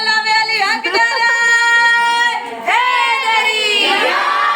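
Crowd at a religious celebration for the birth of Imam Ali Raza chants a slogan back in unison, loud voices rising and sustained in long drawn-out calls.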